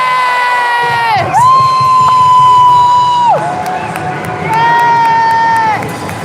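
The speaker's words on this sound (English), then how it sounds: "And look at this crowd, they're going wild." A packed crowd at a basketball game cheers and shouts wildly, with long high-pitched whistle-like blasts rising above the loud roar and children yelling among the noise.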